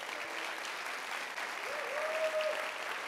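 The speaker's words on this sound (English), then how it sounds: "Can we give a round of applause to all those people?" Audience at a Fast Pitch charity event applauds volunteers, a steady wash of distant crowd clapping with a faint tone rising briefly over it.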